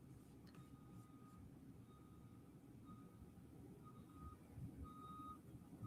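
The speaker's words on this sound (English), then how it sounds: "I hear the bus backing up." A school bus backing up sounds repeated electronic reversing beeps at a steady interval, faint and somewhat distant over a low rumbling engine and outdoor background noise.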